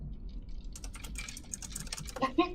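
Quick keyboard typing, a soft burst of close clicky keystrokes under a low background murmur, ending in a couple of sharper clacks.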